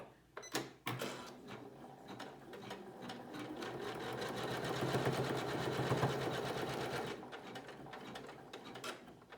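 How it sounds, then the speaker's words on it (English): An embroidery machine stitches a trimming line on a flip-and-sew spinwheel block, running continuously and close. Its rapid, rhythmic mechanical chatter swells and then tapers near the end. "we're going to put it back in the machine, and we are going to stitch out our trimming line for that corner"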